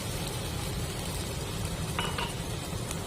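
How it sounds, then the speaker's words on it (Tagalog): Mushroom soup with chicken cubes simmers in a pot while a utensil stirs it, giving a steady low bubbling hiss with a few soft clinks against the pot and no talk. "Ayan, haluin lang natin."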